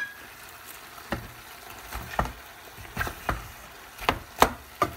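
Onions being chopped on a board in a home kitchen, with sharp, separate knife strikes at an irregular pace over a quiet background.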